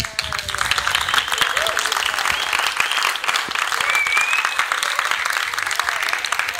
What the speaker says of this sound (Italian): the loud of the applause is not strong enough.